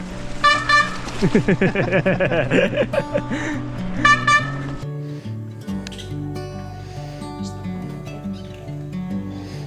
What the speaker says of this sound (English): Kurt's front brake sounds exactly like a horn